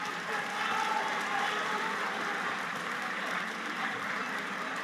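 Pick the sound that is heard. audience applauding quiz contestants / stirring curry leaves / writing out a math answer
audience applauding quiz contestants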